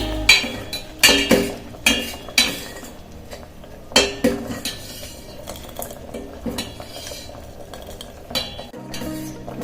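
Chilli powder being stirred with a spoon into lentil and ridge gourd sambar in a pot. Sharp metallic clinks of spoon on pot come in a quick rhythmic series, then ease into softer scraping and stirring.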